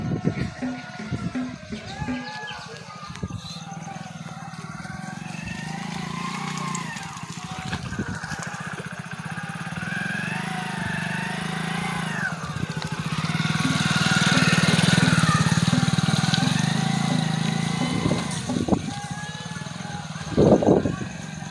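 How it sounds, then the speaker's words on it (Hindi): A motorcycle rides through a muddy lane with its engine droning steadily, growing louder as it nears mid-way and then easing off, while someone talks over it. "देख लो एक बाइक आ रही"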